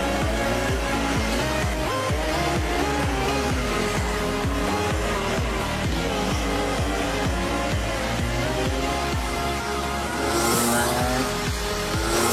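A racing kart with a Rotax 125 engine drives steadily and loudly for the whole stretch, its engine droning with continuous revving, and a brief tire squeal comes near the end.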